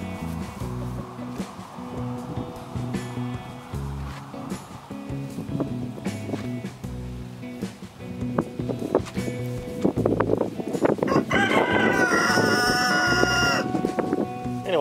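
Backyard chickens, including Orpingtons and sex-link hens, on an outing, clucking and calling in a busy, overlapping chorus that grows louder and denser toward the end, with light wind in the background.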